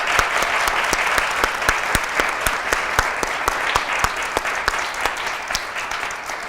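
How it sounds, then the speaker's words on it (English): Audience applause at an evening author talk, a steady patter of many hands with some sharp individual claps standing out, moderately loud and continuous, tapering slightly toward the end. "So join me in a round of applause."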